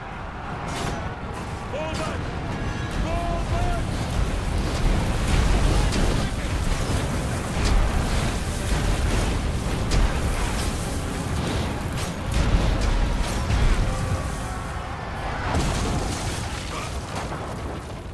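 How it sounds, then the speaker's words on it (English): Catapults firing and explosions during a courtyard battle in Ryse: Son of Rome, a dense, continuous rumble of booms and crashes with heavier bursts around the middle and later on, mixed with battle noise and shouting voices. "Fire on my command. Catapults!"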